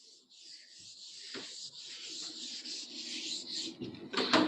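Rubbing and scraping strokes of an eraser or duster wiping writing off a board during a physics lesson, steady and close, with a couple of harder knocks near the start and end.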